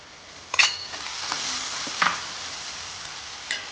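Chillies sizzle softly in a pan while being stirred for a pickle, with a few sharp metallic scrapes of a spoon against the pot over a steady low frying hiss.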